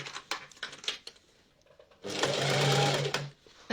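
Sewing machine stitching along the top of a children's coat near the hood, heard in a loud sustained run of rapid stitching after a stretch of quieter handling and clicks.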